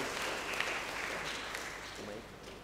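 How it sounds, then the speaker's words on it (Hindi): Church congregation applauding during a Confirmation service, a dense, fairly soft wash of clapping from many hands that continues steadily across the whole stretch. "हम सब तालियां बजाकर ईश्वर को धन्यवाद दें।"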